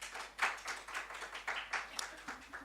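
Brief, faint applause at an international design seminar for the session chair and co-chair, scattered claps heard at a distance.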